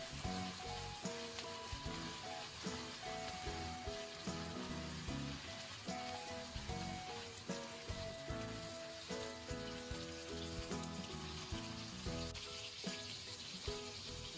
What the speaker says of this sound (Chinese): 我们沿着锅边烹入适量的料酒去腥， 再用铲子翻炒均匀